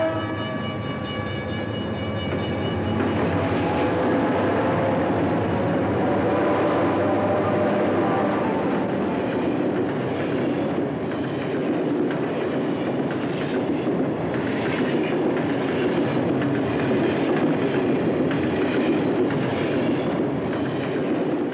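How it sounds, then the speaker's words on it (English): A Burlington Northern freight train rumbles past steadily, a long low roar with faint rhythmic clatter of wheels, and a brief horn-like tone at the start. "a train that carries only one kind of cargo to a single destination"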